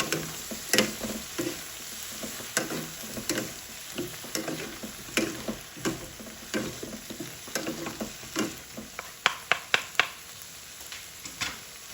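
Kangkong greens with oyster sauce get stirred in a pan, a steady series of scraping, clacking spatula strokes over a soft sizzle, with a few sharper clicks near the end.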